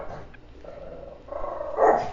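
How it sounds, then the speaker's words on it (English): A dog barks a few times at a moderate distance, short sharp yips spaced out over a quiet background. "This dog keeps barking."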